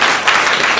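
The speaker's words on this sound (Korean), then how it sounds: "박수 부탁드리겠습니다" An audience at a Korean lecture session applauds in a dense, steady burst of clapping that fills the short moment.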